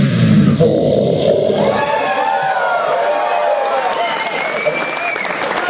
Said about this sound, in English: Are you guys cheering for evil?